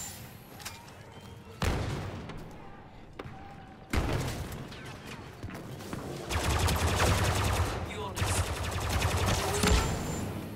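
Blaster gunfire in the Star Wars Battlefront 2 video game: scattered sharp shots, then denser volleys building toward the end, moderately loud, with a faint voice at moments.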